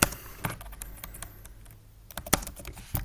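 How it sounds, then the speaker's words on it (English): Typing on a computer keyboard, with short bursts of close key clicks separated by a brief pause and no voices. "So let's type in King"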